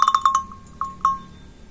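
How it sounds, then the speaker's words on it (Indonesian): An old-style cow bell is struck several times, giving a quick cluster of bright metallic clanks followed by two more spaced rings that fade out, close and fairly loud. "Kelontong sapi."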